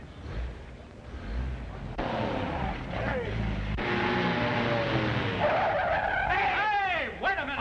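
Car tires squeal and skid in a long screeching slide, rising and bending in pitch near the end, over engine rumble and background commotion in an old film scene; no clear talk.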